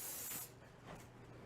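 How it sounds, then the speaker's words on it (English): Cooking spray from a Pam aerosol can hissing onto a pan in a kitchen: one steady, fairly loud spray burst lasting under half a second, then a quieter lingering hiss with faint handling noise. "Spray down your pan first."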